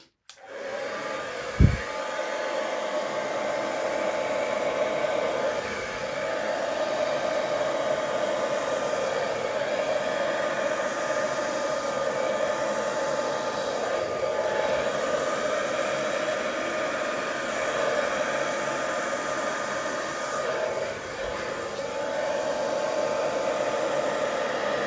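A steady, loud rush of blown air, like a hair dryer, runs continuously over acrylic paint during a Dutch pour, holding for the whole stretch after a short click at the start, with no talking.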